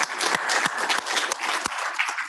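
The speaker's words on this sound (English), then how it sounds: "let's applaud our founders," Audience applause at a medical innovation conference session, a steady dense wash of many hands clapping for about two seconds with no talk over it.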